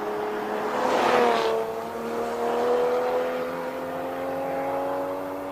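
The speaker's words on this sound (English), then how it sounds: "We want to just hear these cars hard on the brakes, change down, kick it in left." Hillclimb race cars at Simola braking, downshifting and accelerating, a moderate engine note that rises and falls through gear changes and then holds a steady whine at some distance.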